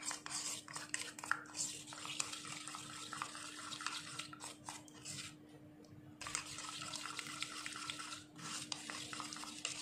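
Foundation cream and cosmetic ingredients are stirred in a container with a soft continuous scraping and swishing that pauses briefly midway, set against a steady low hum.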